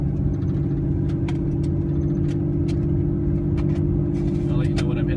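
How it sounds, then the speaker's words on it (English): A 2006 Cummins diesel pickup's Pacbrake PXRB exhaust brake reapplies as the throttle is released on a mountain descent, a steady loud low engine drone with faint clicks and rattles on top, running unbroken throughout. "And then when I let off the accelerator, the brake reapplies."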